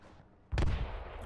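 One single-fire gunshot in a video game cracks out abruptly partway through, a loud close report with a short decaying tail.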